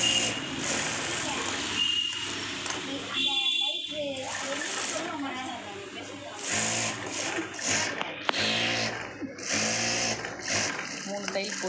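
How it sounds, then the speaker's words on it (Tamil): A sewing machine whirs in steady bursts while stitching blouse fabric, starting and stopping between runs as someone talks over it in Tamil. "இந்த மார்க்கில் ஒரு ரஃப் தையல் கொடுத்து எடுத்து இதே மாதிரி தையல் பக்கத்தில் போட்டுணும்"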